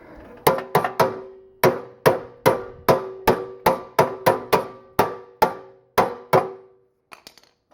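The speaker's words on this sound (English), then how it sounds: "A hammer, the world's greatest tool." A hammer strikes metal about twenty times in a steady, ringing rhythm while converting a lawnmower into a brush mower, each blow loud and clanging, followed by a few faint taps.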